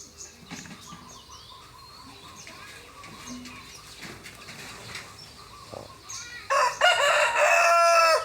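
A rooster crows once, loud and near, near the end after quieter village ambience with scattered bird chirps, along the Thai–Lao border.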